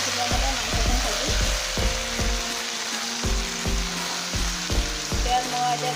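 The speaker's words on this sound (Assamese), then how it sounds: "আৰু মই লছ সিজাবলৈ মাংসখিনি ভাজিম।" Duck meat frying in a pan with onions in a village kitchen, a steady bright sizzle broken by repeated thumps and scrapes of stirring at an uneven rhythm, close and continuous.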